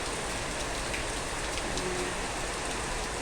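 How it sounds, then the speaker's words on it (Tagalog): Heavy rain pours down in Kuwait as a dense, unbroken hiss of drops hitting surfaces, loud and steady from start to finish, with no voices. "Ang lakas ng ulan."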